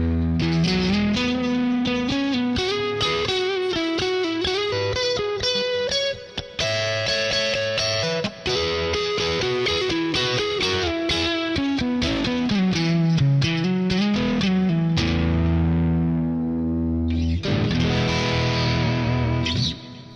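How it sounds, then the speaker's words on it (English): A stock Fender Stratocaster Richie Sambora Signature electric guitar plays loud, heavily distorted riffs and chords with effects, continuing alone for about twenty seconds with a brief break near the end. "Fender Stratocaster Richie Sambora Signature."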